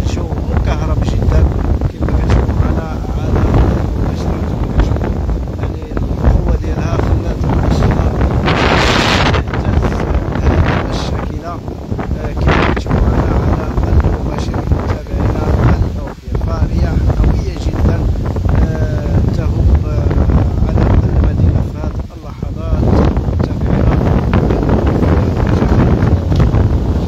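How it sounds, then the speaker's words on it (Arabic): Strong wind blows over the city of Agadir, a loud continuous roar battering the microphone with gusts rising and falling throughout, while someone talks over it. "ربما يعني القوة ديال الرياح اللي كتطبق المدينة"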